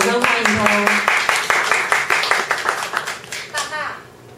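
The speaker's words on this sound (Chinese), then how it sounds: "我们掌声欢迎他" An audience at a live singing event claps steadily to welcome a performer, a dense run of hand claps that rises, holds, then thins out toward the end, with a brief voice near the start.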